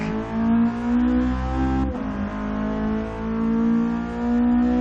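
A Toyota GT86 from a modified 'ricer' build revs loudly and steadily, its engine note holding a droning tone that briefly dips around the middle before climbing again.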